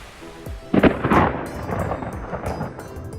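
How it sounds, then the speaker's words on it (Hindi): Heavy rain falls steadily during a Ganesh festival rally in Vizag, India, while thunder cracks and rumbles nearby in a couple of loud bursts over the constant hiss of the downpour. "बीच में बारिश आ गया तो हम अभी फंसे पड़े हैं।"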